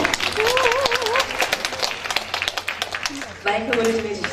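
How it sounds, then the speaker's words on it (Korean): An audience at an arts festival performance claps warmly to welcome a singer onto the stage, a sustained burst of many hands, with a host's amplified voice speaking over the applause at the start and again near the end. "자, 뜨거운 박수로 맞아주시기 바랍니다."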